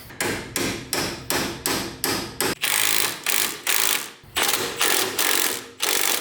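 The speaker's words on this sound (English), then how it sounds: "Hammer time." Loud metallic hammer blows on a Mazda FC RX-7's suspension ring out close by: a quick run of even strikes, then several longer, heavier bursts with short gaps between.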